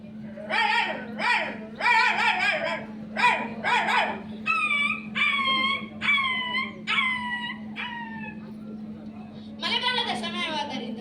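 At a school mimicry contest, a human voice imitates a small puppy: a quick run of sharp yips, then a string of high, whining howl-like cries, and a final burst of yapping, all close and clear over a low electrical hum.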